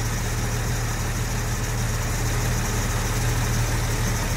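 A Jaguar 4.2 engine with new electronic ignition idles steadily with a low, even rumble, close by and continuous with no talking.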